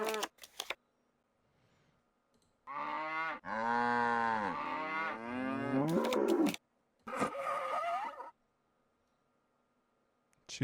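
Cartoonish cow moos in the Nancy Drew: The Captive Curse video game, two long drawn-out lowing calls followed by a shorter one, with brief clicks and quiet gaps between them and no talking.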